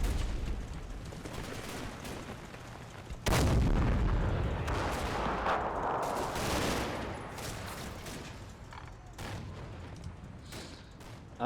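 Gunfire aimed at a mortar team in a war video game, with rapid bursts and rumbling booms that surge suddenly and then keep crackling at a moderate distance with no talk over it.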